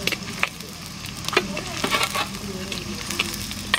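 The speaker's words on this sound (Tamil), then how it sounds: "வெங்காயம் பூண்டெல்லாம் கொஞ்சம் நேரம் வதங்கட்டும்." Onion, garlic and curry leaves frying in a pan produce a loud, close, crackling sizzle, with intermittent scrapes and knocks from stirring running throughout.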